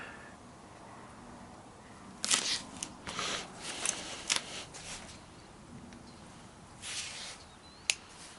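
Knife or shears slicing kangaroo leather lace for a bullwhip core, a series of short, crisp cuts and snips close by with pauses between, ending on one sharp click.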